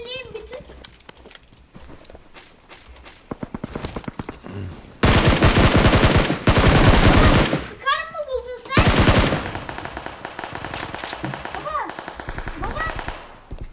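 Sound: gunfire in the video game PUBG Mobile

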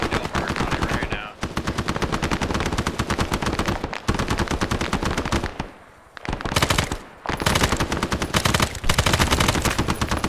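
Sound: machine gun fire in the video game Arma 3

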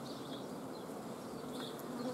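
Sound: honeybees buzzing on a hive frame

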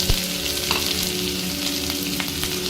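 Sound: chopped onion frying in hot mustard oil

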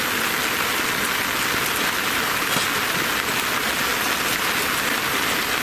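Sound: rain at a reservoir

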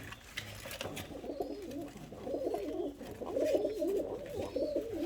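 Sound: Polish Königsberg pigeons cooing in a coop

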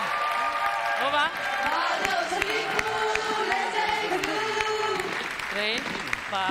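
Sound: audience applause for the contestants

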